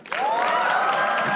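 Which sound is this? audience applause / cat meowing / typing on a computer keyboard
audience applause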